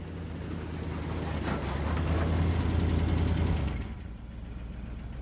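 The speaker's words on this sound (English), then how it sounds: "Just then, a truck arrives." A truck pulls up: a steady, rumbling engine builds and holds for about four seconds, then drops away as a brief hiss like an air brake sounds near the end.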